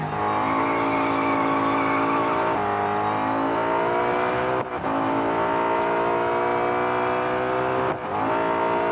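Nissan Altima 2017 race car tuned to 650 horsepower roars steadily through a Real Racing 3 race, a loud continuous engine drone rising and falling in pitch with brief dips between gear shifts and faint tyre squeal.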